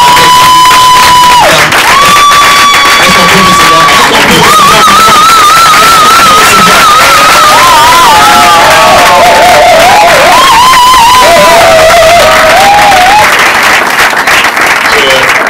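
Audience cheering and applauding at a gathering honouring an evangelist, with loud sustained crowd noise, claps and shouts throughout, while a voice calls out and ululating or singing tones rise above the crowd.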